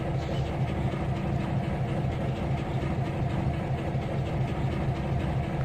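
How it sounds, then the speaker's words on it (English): A steam locomotive idles in the Trainz 2019 railway game with a continuous, even, low mechanical rumble, steady throughout, with no voices. "Sitting there with his engine running for some odd reason"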